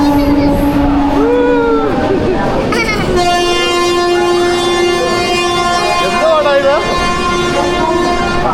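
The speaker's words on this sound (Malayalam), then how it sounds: "അവിടെ നോക്കിയാൽ ട്രെയിൻ ഹോണടിയാണ് ഗൈസ്." At Nizamuddin railway station a train horn sounds loud and near, holding one long steady blast for about five seconds, with people talking just before and during it.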